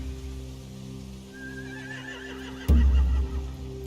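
A horse in The Walking Dead: The Final Season video game gives a rising whinny, followed by a sudden heavy thud and snorting, with a low steady hum behind.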